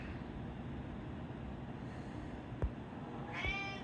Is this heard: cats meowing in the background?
yes